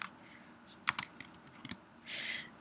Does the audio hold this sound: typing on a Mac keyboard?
yes